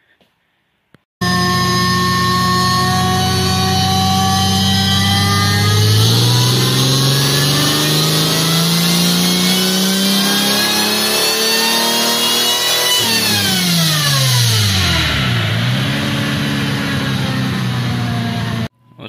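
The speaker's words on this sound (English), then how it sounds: "I want to dyno at NA, see what it makes, so we can get a comparison of what it makes with boost." A supercharged Jeep 4.0 straight-six is run on a dyno with the boost tube off, so it runs naturally aspirated. The engine roars loudly and close as it climbs steadily through a long full-throttle pull, then drops sharply and winds back down before cutting out.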